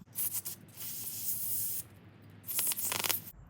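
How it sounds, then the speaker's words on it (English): Brake cleaner sprayed from an aerosol can into the slave cylinder of a 2003 Suzuki Intruder VS800 motorcycle: two close, loud hissing bursts separated by a short pause, with no talking. "So I'm just going to use some brake clean."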